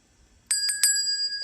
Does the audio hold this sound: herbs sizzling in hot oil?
no